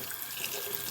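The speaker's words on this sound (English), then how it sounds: "When you're rinsing, make sure your water's not hot like mine." Tap water runs into a sink while a makeup brush is rinsed, a steady close splashing hiss filling the whole moment without speech.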